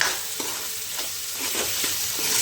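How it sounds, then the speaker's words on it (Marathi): Chickpeas and peas sautéing in oil sizzle steadily at close range, while a spoon scrapes and stirs through the pan in a loose, repeated rhythm. "हरभरा हरभऱ्यानंतर वाटाणे तसं आहे ना तेलामध्ये परतून घेते"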